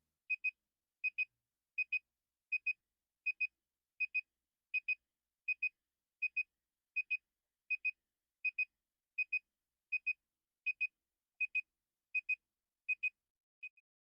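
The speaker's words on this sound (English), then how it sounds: "Count 20 consecutive beeps." A measuring unit gives a long, evenly spaced series of high electronic double beeps at its endpoint, about twenty in a row, clear and steady with nothing else audible.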